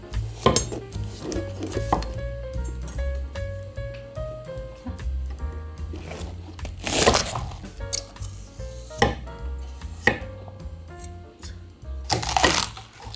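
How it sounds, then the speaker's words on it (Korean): Cabbage, washed and with its tough stem removed, being cut into strips with a knife on a board, a steady run of knocks and clicks over background music. "씻어온 양배추를 채를 썰 거예요."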